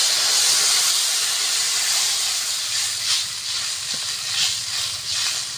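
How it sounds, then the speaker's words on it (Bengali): Water poured into a hot pan with fried aubergine oil sends up a strong, steady hiss of steam that slowly fades, broken by a few softer bubbling surges. "জল দিয়ে দেব।"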